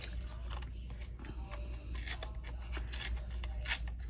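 Scissors snip through old scrapbook paper in a quick run of close, crisp cuts, with sharp bursts of crunching blade sounds and no talking.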